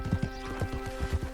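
Horse hooves clip-clopping in Red Dead Redemption 2, a Palomino near Moonstone Pond, about eight soft rhythmic hoof thuds at a walking pace over a low ambient hum.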